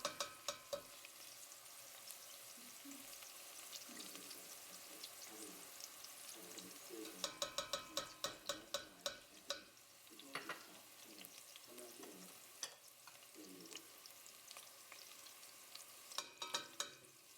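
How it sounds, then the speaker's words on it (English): Onions and peppers fry in a pan with a low continuous sizzle, punctuated by intermittent spatula taps and scrapes, faint and distant, with a voice murmuring in the background. "After about a minute or two of letting my onions and peppers cook"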